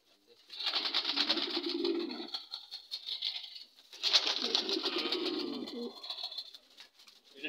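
Pigeons at a pigeon farm give two long, fluttering coo calls close by, each lasting a few seconds, with a short pause between them and no talking.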